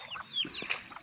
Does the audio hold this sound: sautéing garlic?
no